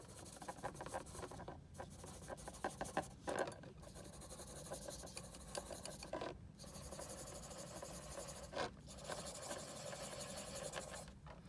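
Pencil scribbling back and forth on paper to shade a light-to-dark gradient in a drawing, a steady close scratchy rasp with brief pauses between strokes, alone without talk.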